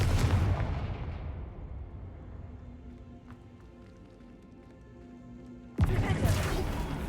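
A video-game Confringo explosive spell bursts loudly at the start and fades into a low rumbling tail, then a second sharp blast hits near the end.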